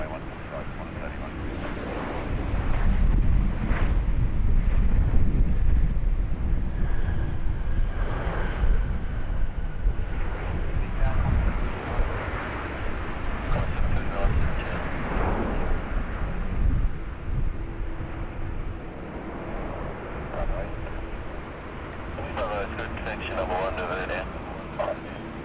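Jet aircraft lined up on the runway at Sydney Airport, a loud rumbling engine roar that builds early and slowly fades, heard under air traffic control radio talk and wind noise.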